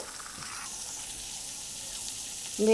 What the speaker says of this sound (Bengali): মাছের মাথাটা লবণ হলুদ দিয়ে ভালোভাবে ভেজে নেব